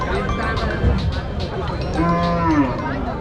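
Several native-breed cattle and bulls moo, long low calls rising and falling amid a noisy crowd at the busy Matrapalli cattle market, with voices chattering throughout.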